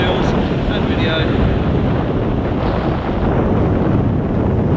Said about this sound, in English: Alright, enough of that wind.